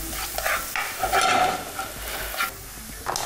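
Food sizzles and crackles in a hot pan while being stirred, with scraping bursts from the utensil coming and going.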